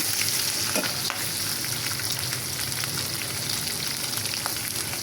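Prawns frying in oil in a pan, a loud, close, continuous sizzle and crackle with occasional stirring scrapes, no voices.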